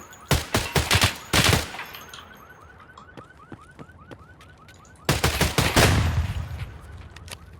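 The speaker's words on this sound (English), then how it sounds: "Getting shot at, immediately instilling the essence of Tarkov into our brains" Loud gunfire in Escape from Tarkov, two clusters of rapid close shots separated by a quieter stretch with a repeating chirping tone.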